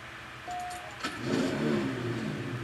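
A car engine starts and revs in the CSR2 racing game ahead of a race against a BMW M5 Competition, with a short tone and click before the engine rises and holds a steady, loud drone.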